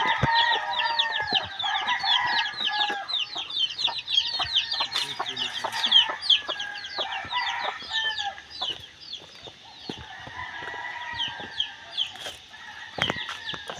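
Many chickens cluck and chatter close by in busy overlapping calls, with occasional scratching and rustling sounds underneath as they scratch through grass in a planted garden.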